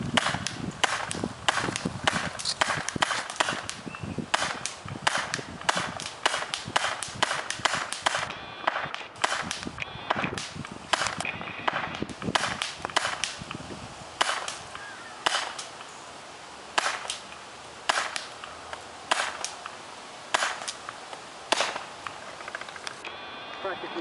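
DeadlyWind Fibur blowgun darts strike a cinder block in a rapid series of sharp, cracking impacts, dense at first and then sparser, close and loud.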